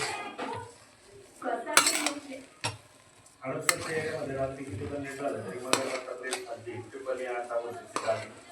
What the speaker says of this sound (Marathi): आता हलवून घेऊया मिक्स करून.